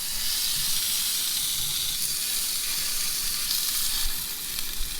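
Thick cut peppered bacon fries in a pan, a dense, steady close sizzle and hiss throughout with no talk over it.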